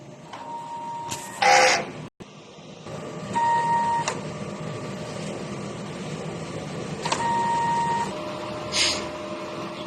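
An inkjet printer runs a print head heat clean: its motor whirs and hums, with a few beeps, brief clunks and sliding mechanical passes at moderate volume and no speech.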